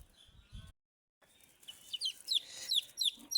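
A mother hen with newly hatched chicks: after a short pause, rapid high chick peeps come in a quick series over soft low clucking, close by.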